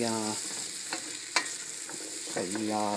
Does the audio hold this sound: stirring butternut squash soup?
yes